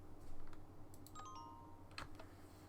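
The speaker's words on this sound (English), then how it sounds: "Can't hear because of the mouse clicking." Several sharp computer mouse clicks, close and fairly quiet, scattered over a steady low hum while someone works on Minecraft sound effects, with no talking.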